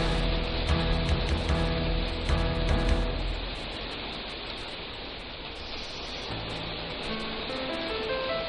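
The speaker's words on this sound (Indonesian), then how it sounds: "Udahlah, hujan nih, udah hujan." Steady rain falls as a dense, even hiss at a campsite during a scouting event, continuing without pause for the whole stretch with no voices over it.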